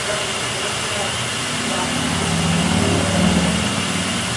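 A motorcycle engine drones steadily under a wash of broadband noise, swelling slightly toward the end as it seems to pass, with no clear speech over it.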